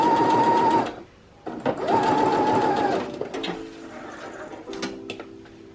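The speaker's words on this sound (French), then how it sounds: "Je rebaisse mon pied de biche et je peux continuer maintenant ma couture jusqu'au bout" A sewing machine stitches the seam of a rectangular zipper pouch in two close bursts of rapid, whirring needle strokes, followed by quieter clicks and short runs as the stitching finishes.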